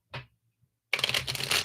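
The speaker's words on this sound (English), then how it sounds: "Let me just shuffle them once here." Tarot cards shuffled by hand during a live reading, a brief riffle at first, then a dense, continuous papery rustle and flutter after a pause, fairly close and alone.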